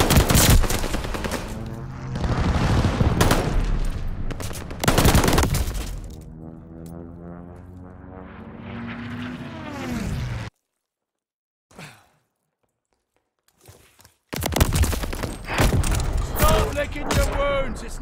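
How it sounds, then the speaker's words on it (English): Hostile aircraft strafing gunfire in a video game: loud rapid bursts with booms across the first ten seconds, then near silence, then more heavy firing returning at the end. "Hostiles are strafing us!"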